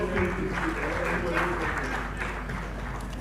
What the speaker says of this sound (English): another round of applause for the panel